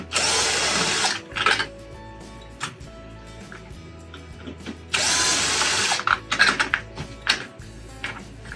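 Power drill unscrewing the screws from the plate of a Simplicity Freedom vacuum cleaner during a cord replacement, two loud whirring bursts close up, each followed by faint clicks and handling noises.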